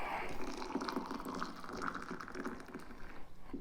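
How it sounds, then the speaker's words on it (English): Hot water from a boiled kettle poured into a bowl to make kombucha, a soft continuous splashing fill, fairly quiet and close, with no speech over it. "we are going to pour 600 millilitres of water, like I said before, into our bowl"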